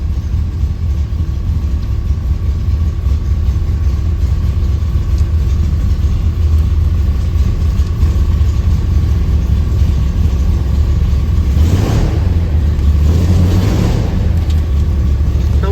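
A 360 cubic inch V8 in a 1973 Ford F250 Highboy 4x4 pickup runs at a steady, loud idle with a deep rumbling drone throughout, briefly swelling with a couple of light revs near the end.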